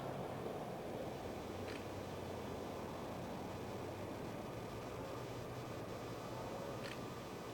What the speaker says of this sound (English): That waterfall there, I can hear when there's no cars going past.